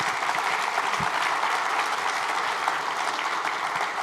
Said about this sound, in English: give him a hand of applause.